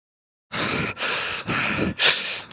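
Four heavy, rhythmic breaths in quick succession, loud and close, like someone panting hard during exertion, sixteen miles into a marathon training run.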